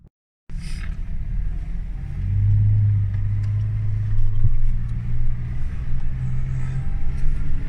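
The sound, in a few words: convoy of cars driving on dunes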